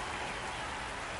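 Light spitting rain falls at a minor-league baseball game between the San Antonio Missions and Frisco RoughRiders, a steady, soft, even patter and hiss with no talk over it.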